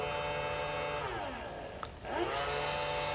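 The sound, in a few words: makeup brush cleaner and dryer machine running loudly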